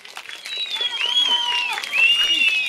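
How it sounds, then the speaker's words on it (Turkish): A crowd claps steadily in a sustained burst of applause at a religious youth program in Bingöl, Turkey, with a high whistle-like tone riding over it. "Sizler de böyle büyük bir alkış."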